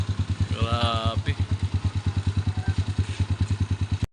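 Motorcycle engine idling close by with a low, steady pulsing thump, the motorcycle having a low-slung exhaust; a voice speaks briefly over it near the start.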